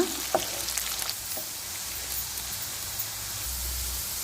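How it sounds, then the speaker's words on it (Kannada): Two green chillies frying in a pan for a corn capsicum masala, a soft steady sizzle with a few early clinks of stirring, fairly quiet and even. "ಈಗ ಚೆನ್ನಾಗಿ ಫ್ರೈ ಮಾಡ್ಕೊಳ್ಳೋಣ"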